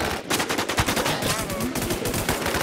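Rapid gunfire from a video game shootout inside a house, a dense stream of sharp automatic bursts running steadily throughout, close and loud.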